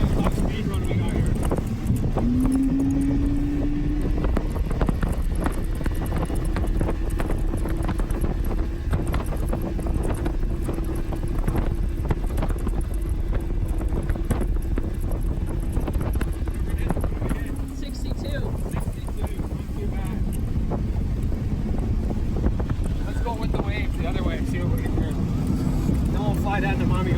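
Steady roar of an outboard motorboat running flat out, with constant wind buffeting the microphone throughout and no clear pauses.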